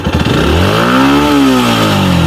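A new scooter's engine close by revs up and then eases back down, a loud rising and falling mechanical drone.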